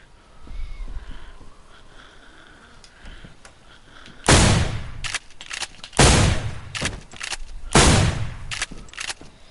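Four loud, sharp shotgun blasts in DayZ, spaced a couple of seconds apart after a quieter stretch of movement and handling noises, each with a short echoing tail.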